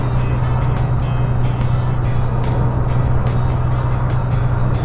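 A Range Rover passes in the Fernbus Coach Simulator driving game, heard from a MAN coach as a loud, steady rush of engine and road noise over a constant low hum, with no speech.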